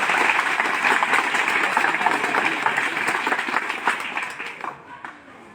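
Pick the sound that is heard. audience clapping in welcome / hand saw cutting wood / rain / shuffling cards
audience clapping in welcome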